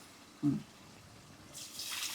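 Tamarind water is poured into a pot of fish curry. A faint knock comes first, then a soft, splashy liquid pour rises in the last second, quiet and close, with no speech.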